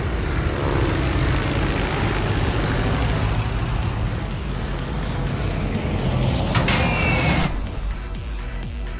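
Fighter aircraft taking off from a carrier in the naval video game World of Warships, a loud continuous engine and propeller roar that holds steady for several seconds, a brief higher whine near the end.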